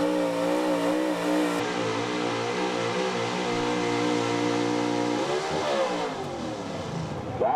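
A square-body Chevy 4x4 pulling truck, big block high output class, revs hard and loud at a truck pull, its engine note holding steady at high RPM before dropping and wavering near the end.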